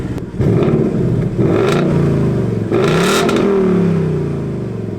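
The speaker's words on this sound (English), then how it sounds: "Here, this is the stock exhaust." A 2019 Ford Mustang GT V8 with stock exhaust revs loudly up and down several times, the deep rumble rising and falling between blips, close up with no voices.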